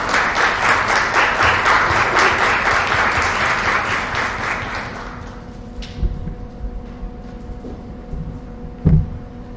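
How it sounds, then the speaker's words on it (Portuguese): Audience applause opening a national biolaw conference, dense and steady for about five seconds, then thinning into scattered claps and faint room noise with a brief knock near the end. "Uma salva de palmas."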